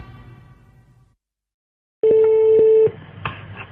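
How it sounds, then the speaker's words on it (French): A telephone is dialed for a prank call. After a stretch of talk and a moment of silence comes a loud, steady tone, then a few short beeps with voices faintly underneath. "je téléphone aux gendarmes immédiatement"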